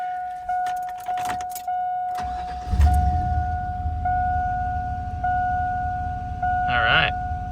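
A GM truck cranks hard after its fuel pressure regulator was replaced, starting on the first try and settling into a steady idle. A faint voice is heard in the clip, with a brief rattle near the end.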